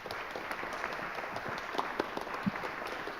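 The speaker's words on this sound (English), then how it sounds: "Could we all have a round of applause for the panel today?" Audience applause for a panel at a sustainable living festival, a fairly light, steady patter of hand claps at moderate distance with a few sharper individual claps standing out.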